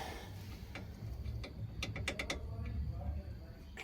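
Bolt being tightened on a Ford Figo shock mount, a few quick ratcheting clicks in a short burst over a low hum.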